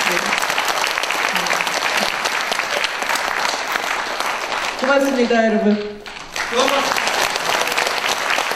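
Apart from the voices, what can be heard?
audience applause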